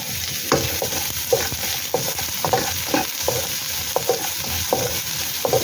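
Ginger and onion sautéing in a pan, a steady close sizzle with repeated scraping stir strokes of a utensil throughout.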